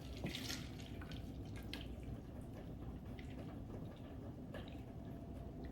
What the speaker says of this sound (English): I will actually pour this in here just so I can kind of measure it a little bit.